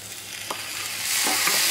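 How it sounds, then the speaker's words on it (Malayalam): Chopped tomatoes are added and stirred into a pan of duck roast masala, with a few scraping stirs over a soft frying sizzle that grows louder and brighter; no one speaks. "നമുക്കിനി ഇതിലേക്ക് തക്കാളി മുറിച്ചത് ചേർത്ത് കൊടുക്കാം"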